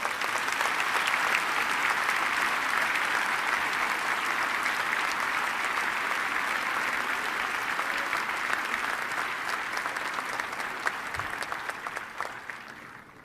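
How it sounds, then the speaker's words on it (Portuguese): Sustained, loud applause from a church congregation fills the space for about thirteen seconds, a dense wash of many hands clapping that holds steady before slowly thinning toward the end. "Você pode dar ao Senhor um forte aplauso"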